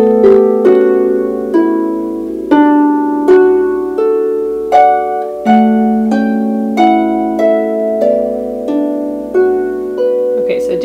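A small harp plucks a gentle melody over a lower accompanying note, each pluck ringing and fading in a steady, unhurried rhythm, close and clear.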